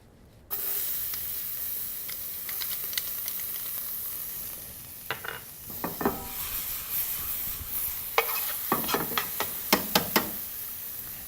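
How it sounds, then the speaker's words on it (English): Diced shallots sizzle and hiss in a hot pan left from searing pork, a steady frying crackle with bursts of louder spitting and spattering now and then, close and with no voices. "add a small amount of diced shallots just to saute for a moment"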